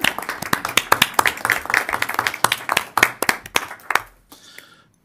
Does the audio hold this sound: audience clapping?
yes